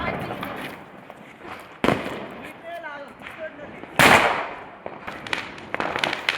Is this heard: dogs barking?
no